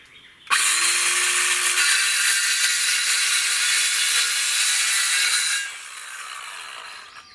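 PVC pipe is sawn through during secondary well work, a loud, steady, close rasping that runs unbroken for about five seconds before dropping to a quieter tail, with no talking.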